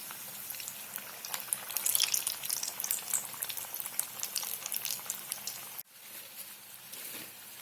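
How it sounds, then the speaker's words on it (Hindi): Aloo vada deep-frying in hot oil, a steady close crackle and bubbling sizzle that swells midway, briefly cuts out, then resumes slightly quieter, with no talking. "दूसरा वड़ा डालेंगे। दूसरी बाजू तल लेंगे।"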